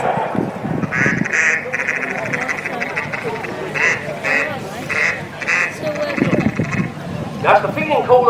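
A handheld duck call imitates the rapid, chattering feeding call of a mallard, repeated in quick quacking bursts close up, with someone talking over parts of it.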